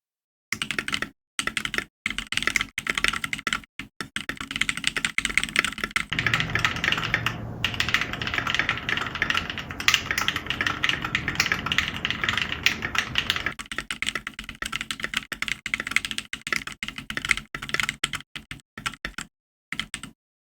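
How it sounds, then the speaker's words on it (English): Steady typing rattles on a custom Mega Man themed mechanical keyboard, dense close-up key clacks in quick bursts with brief pauses, some strokes sounding fairly deep. "let's go ahead and have a typing test"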